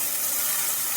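Spice paste hitting hot oil with soybeans, a brief burst of dense, close sizzling that holds steady for about a second.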